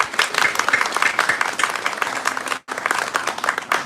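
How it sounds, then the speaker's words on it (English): Audience at a groundbreaking ceremony for an Ottawa rental housing development breaks into lively applause, a dense crackle of clapping with a brief dip near the end before resuming. "I think that deserves a round of"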